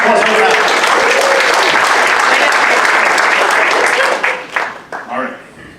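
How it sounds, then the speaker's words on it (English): A live audience bursts into sustained, dense applause that stays loud and steady for about four seconds, then thins into scattered, fading claps. "Give it a nice round of applause for that."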